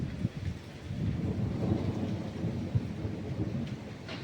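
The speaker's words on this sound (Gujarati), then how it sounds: "ગાજે છે વરસાદ" Low thunder rumbles beneath a steady hiss of falling rain, with no voices.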